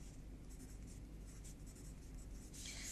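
Pen scratching across paper while working through a GCSE maths exam question, a steady continuous scribble that stays fairly faint and close throughout, with no talk.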